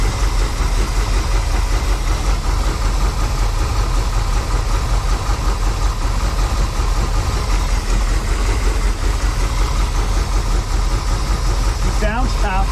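A big V8 engine in a Baja boat idles with a loud, heavy, continuous rumble throughout; a person talks over it.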